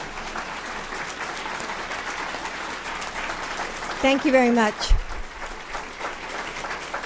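Warm audience applause for someone at a Department of Education Black History Month event, a steady wash of clapping across the room before someone briefly speaks over it near the end.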